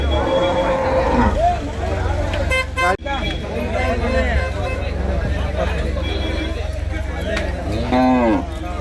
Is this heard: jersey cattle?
yes